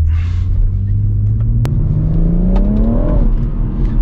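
A BMW M140i pulling hard in second gear with the throttle floored, its engine note rising steadily and loudly in pitch over a deep rumble, heard close from inside the car, with no speech.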